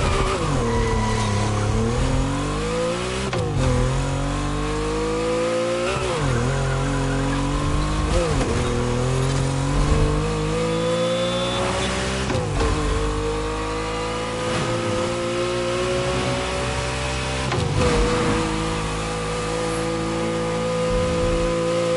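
Racing car engines roar on Hawaiian mountain roads during a two-car toge duel in The Crew Motorfest, revving steadily up and down through gear changes with occasional tire squeal, loud and close with no talking.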